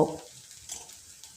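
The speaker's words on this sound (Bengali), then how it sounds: "কুচনো পেঁয়াজটা আমি লাল লাল করে ভেজে নেব" Chopped onion frying in oil seasoned with whole cumin, a faint, steady sizzling hiss after a brief stir-like clatter at the start.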